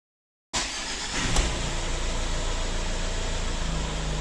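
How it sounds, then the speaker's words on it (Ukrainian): A Mazda 6 GH 2.0 diesel engine with a no-start fault cranks and fires after a moment of silence, then settles into a steady, even idle close by. "Спробуємо запустити двигун."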